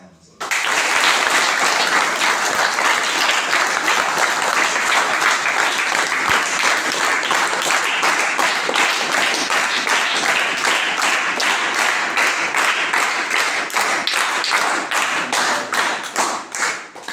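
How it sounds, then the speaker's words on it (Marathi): School students at Shivaji Vidyaniketan, Ganeshwadi, clap loudly for their parents. Dense, sustained applause from a large group fills the room for the whole stretch, with possible faint voices mixed in. "तुमच्या आई वडिलांच्यासाठी तुम्ही जोरदार टाळ्या वाजवा"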